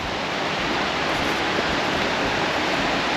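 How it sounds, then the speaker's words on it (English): A small man-made waterfall pours from a pipe in Juneau, Alaska, giving a steady, dense rush of falling water that stays even and fairly loud throughout, with no talking. "There's a waterfall here, but it might be a man-made one because it looks like a pipe."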